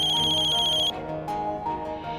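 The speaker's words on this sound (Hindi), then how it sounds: "आपका फोन बज रहा है।" An electronic phone ringtone sounds briefly at the start in a Hindi TV drama scene, then cuts off, leaving a quieter musical background.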